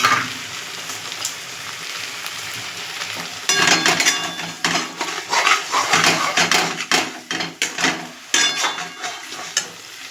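A spoon stirring a soybean and coconut dish in a pan over medium heat, with scraping strokes and sizzling that grow louder and more rhythmic partway through, close and clear with no talking.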